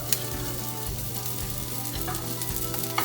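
Garlic sizzles in a tablespoon of hot oil in a pan while a salmon Wellington filling is cooked, a steady close frying crackle with a few sharper pops and no talking.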